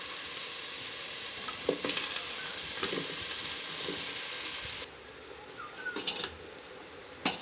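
Tender jackfruit pieces sizzle steadily in a hot pan, a constant hiss that drops in level partway through, broken by a few faint clicks and light taps.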